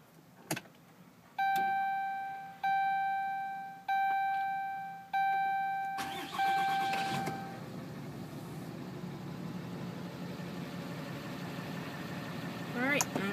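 Ram 3500 pickup truck: a series of chimes sound before the engine fires and settles into a steady low idle from inside the cab, with a voice talking over it.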